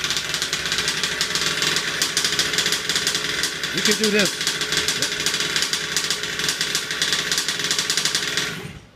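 A gas-powered 5th scale RC engine being broken in runs steadily at a loud, buzzing idle for about nine seconds, with a person talking briefly over it partway through before it cuts off.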